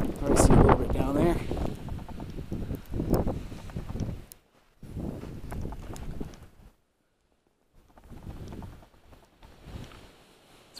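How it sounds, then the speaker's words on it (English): Gusty wind at a cloudy, hazy mountain summit around 4000 feet buffets the microphone in loud bursts that drop out briefly, with a person talking between gusts. "It's windy up here."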